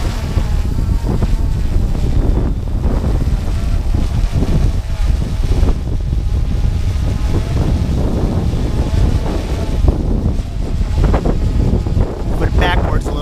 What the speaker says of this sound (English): Struggling in the wind.